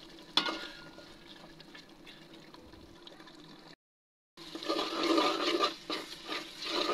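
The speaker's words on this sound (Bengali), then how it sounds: "এখন কেটে রাখা টমেটোগুলো দিয়ে দিলাম। টমেটোটাও এখন ভালো মতো কষিয়ে নিব।" Chopped tomatoes sautéing with spices in a pan for an aloo egg curry, a steady close sizzle with scraping stirs, briefly cut to silence midway before a louder, busier frying resumes.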